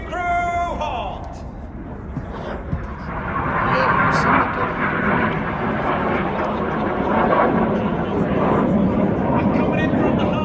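Red Arrows jets of the RAF flying the Synchro Heart display manoeuvre at the Royal International Air Tattoo 2024, a broad, steady roar of jet engines that swells midway and holds loud throughout, with a commentator's voice over it.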